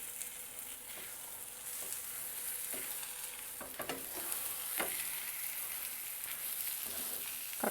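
A moong dal kabab mixture is stirred in a hot pan, giving a steady frying sizzle broken by repeated scraping strokes of the spoon across the pan, close and clear with no talking.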